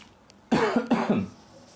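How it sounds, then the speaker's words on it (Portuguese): Two harsh, close coughs in quick succession, loud against a quiet background. "Desculpem a tosse aqui."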